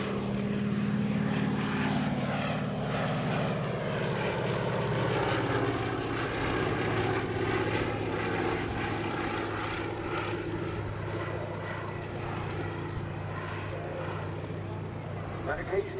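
A Fairey Swordfish Mk I biplane flies past at the Duxford Air Festival, its piston engine and propeller producing a steady, loud drone throughout, while a commentator talks over the public address.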